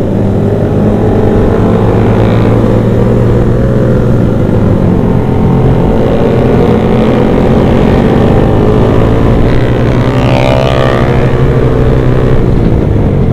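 Kawasaki Z800 motorcycle on a night ride through Banda Aceh, a loud, steady engine drone heard close up for the whole stretch, with the pitch rising and falling slightly as the throttle changes.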